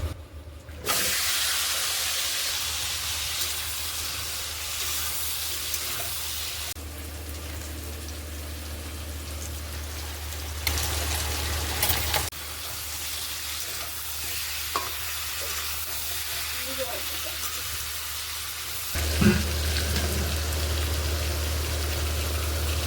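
Potatoes tipped into hot oil after pointed gourd has been fried, a steady loud sizzle and crackle with stirring scrapes, the frying continuing with small bursts toward the end.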